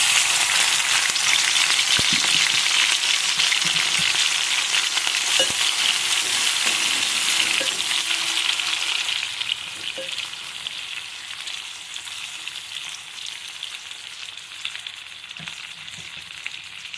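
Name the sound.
dried shrimp frying in oil in a pan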